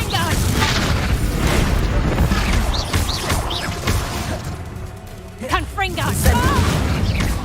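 Explosive Confringo spell blasts in Hogwarts Legacy, heavy booms and crashing bursts layered over voices and dense combat noise, loud and continuous.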